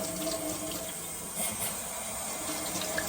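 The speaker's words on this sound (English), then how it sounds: "turn on a little bit of water, not a lot" A tap runs lukewarm water for rinsing a houseplant, a continuous close splashing rush that stays even and steady throughout, with no voices.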